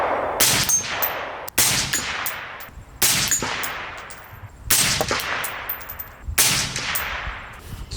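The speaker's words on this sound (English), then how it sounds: "We're going to shoot this suppressed." Five suppressed shots from a 224 Valkyrie rifle firing 60 grain Nosler bullets ring out at a steady pace, each a loud sharp crack followed by a short decaying tail, with no talking.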